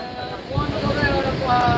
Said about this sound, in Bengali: এই মুহূর্তে ওল্ড দীঘাতে রয়েছি চলছে বাতাস প্রবল গতিতে